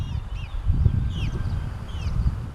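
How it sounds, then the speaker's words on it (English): Birds chirp outdoors on a porch on a spring day in Tuscaloosa, in short high calls scattered throughout, over a low rumble of background noise. "sits on her porch and listens to the birds"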